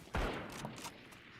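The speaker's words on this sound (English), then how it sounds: "the Sheriff rings through a headshot onto Margot" A single Sheriff pistol shot lands a headshot in Valorant, a sharp crack followed by a quieter reverberant tail and a couple of faint follow-up sounds.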